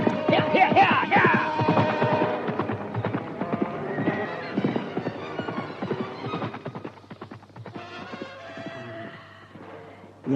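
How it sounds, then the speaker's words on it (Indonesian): A horse's hooves clip-clop in an Indonesian radio drama, with rapid, rhythmic clopping close by, a horse whinnying and occasional shouts over the top. "Yang menunggang kuda itu pasti Gandini dan Tembong."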